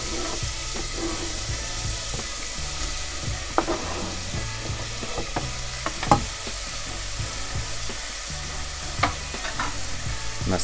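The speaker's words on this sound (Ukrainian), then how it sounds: "Кастрюльку поставили на плиту, вона вже розігріта, додали рослинну олію і додаємо шлунки" Chicken gizzards fry in hot vegetable oil in a pot on the stove, giving a steady sizzle broken by the scrape and clack of stirring.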